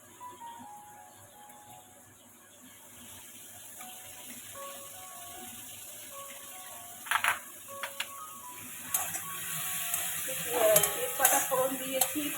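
Fish curry masala with tomato sautéing and being stirred in a pan, a low steady sizzle with scraping stirs and a few sharper clinks toward the end, no talk.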